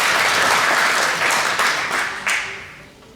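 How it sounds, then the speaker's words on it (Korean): Audience applause at a poetry publication celebration in Atlanta, a dense, steady wash of many hands clapping close by, fading slightly toward the end. "떨지 않으시도록 많은 박수 부탁드리겠습니다"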